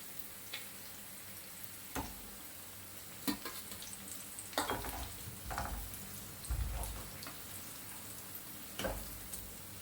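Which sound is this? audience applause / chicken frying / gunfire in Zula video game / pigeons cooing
chicken frying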